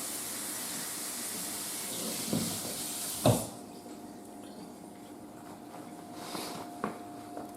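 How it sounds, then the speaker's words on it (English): Tap water runs into a sink to cool a piece of annealed brass, a steady close hiss that cuts off after a sharp clatter, leaving faint drips and small knocks. "Let's run one under some running water here"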